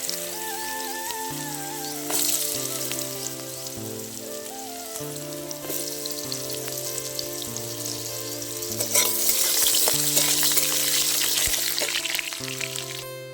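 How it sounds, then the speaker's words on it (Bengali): Potato pieces fry in a pan of hot oil seasoned with cumin seeds, giving a steady, loud sizzle with crackling bursts and stirring scrapes throughout, with music playing underneath and no talking. "জিরে ফোড়ন দিয়ে আমি এবার আলুটাকে প্রথমে ভালো করে ভেজে নেব।"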